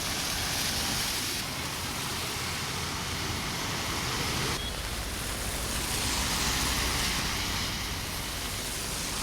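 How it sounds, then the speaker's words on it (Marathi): Heavy rain pours steadily on a city street in Virar, a dense, continuous hiss that stays loud and even throughout, with no voices heard. "पाऊस हा दमदार पडायला सुरुवात झालेली आहे"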